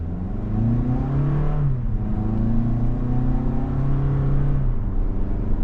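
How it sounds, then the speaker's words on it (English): A 2025 Toyota RAV4 XLE Premium's 2.5-litre four-cylinder with an 8-speed automatic accelerating: a steady droning engine tone rises in pitch, dips at a gear change, then climbs again, heard clearly from inside the cabin with no talking. "this 4-cylinder with the 8-speed automatic"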